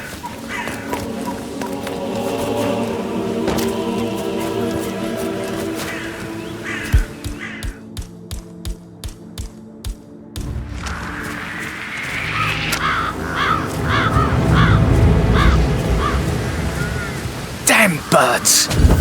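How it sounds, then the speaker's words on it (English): Crows cawing in the Hitman video game amid layered game ambience, with a run of sharp regular knocks and later bursts of harsh calls over rising noise; a voice speaks at times. "Damn birds!"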